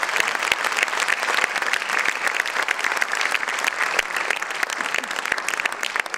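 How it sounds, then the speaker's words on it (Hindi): Loud, dense applause from an audience at a stage event welcoming a team, continuous sustained clapping from a crowd throughout. "एक बार जोरदार ताली बजाकर पूरी टीम का आप स्वागत करें।"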